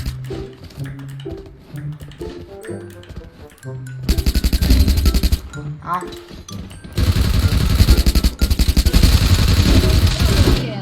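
Rapid gunfire from a shooting video game bursts out in loud, dense volleys, with quieter gameplay sounds and music-like tones between the bursts.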